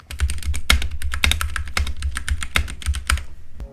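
Fast, close typing on a Ducky One 2 SF 65% mechanical keyboard produces a loud run of sharp, clacky keystrokes in an uneven rhythm, with no voice over it.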